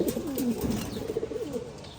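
Domestic pigeons let out in the sunshine coo in low, rolling phrases close by, several overlapping calls continuing throughout.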